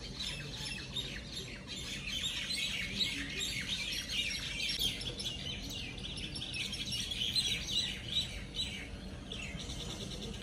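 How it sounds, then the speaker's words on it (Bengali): Many birds squawk and chirp around a river crossed by boat in Murshidabad, a dense, continuous chorus of overlapping calls at moderate distance over soft background noise, with no talking. "সাথে সাথে প্রচুর পাখি, যেগুলো আমাদের ওখানে দেখা যায় না"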